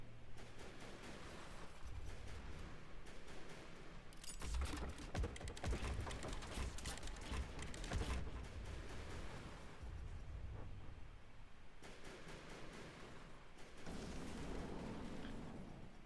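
A volley of torpedoes in a PT boat video game, heard as a steady, fairly faint rumble of explosions and crackling bursts that swell in the middle and return near the end.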